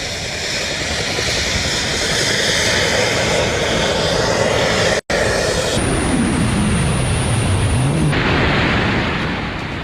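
A person flies in a jet suit, and a loud, constant jet-engine roar fills the whole stretch, broken by one split-second gap, with the tone later shifting as if the flyer moves past.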